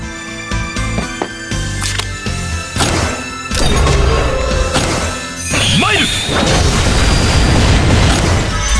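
A cannon fires in the fantasy strategy game Langrisser, with heavy booms and crashing blasts over a dense, loud game soundtrack that swells midway.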